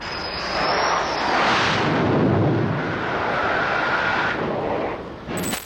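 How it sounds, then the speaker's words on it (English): Jet airplanes landing on an aircraft carrier deck: a loud, close roar of jet engines swelling and sweeping past over several seconds, then easing off before a sharp burst at the end. "there are airplanes landing on your roof"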